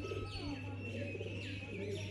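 Pigeons from a prized pair coo in soft rolling calls with a few chirps, over a steady low hum.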